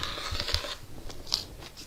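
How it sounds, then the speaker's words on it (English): Scissors snip through fabric tote bag straps, giving a few crisp, close cutting crunches in quick succession, then a single sharper snip. "we'll cut these straps"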